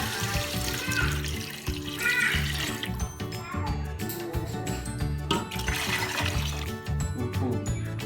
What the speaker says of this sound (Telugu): నానబెట్టిన బియ్యం ఇప్పుడు మనం ఇందులో నీళ్లు పోసుకుంటాము